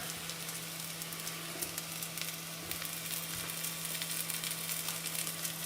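Tomato and mozzarella meatballs topped with anchovy fillets cook on a barbecue, giving a steady close sizzle with faint crackles and a low constant hum, no voices.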